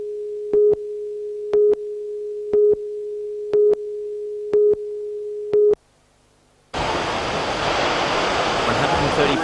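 About 1.5 to 2 metre surf breaks at the Graveyard during the Catho Surf Classic, a loud, continuous roaring wash that begins suddenly after a run of steady electronic beeps and a short silence.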